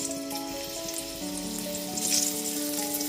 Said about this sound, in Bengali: তারপর ওই একই তেলের মধ্যে এবার পটল দিয়ে দেব